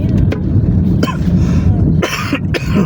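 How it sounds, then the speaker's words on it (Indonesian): A man coughing repeatedly in short, harsh bursts, loud and close, over a constant low background rumble. "Aduh, lagi batuk guys."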